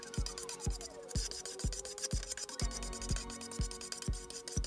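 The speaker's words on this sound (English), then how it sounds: "just scraping it over the build lines in the 3D prints" Repeated rasping scrapes of a tool spreading acrylic paint and wood filler over the build lines of a 3D-printed droid ball, about ten steady strokes at an even rhythm, close and fairly quiet, with no talking.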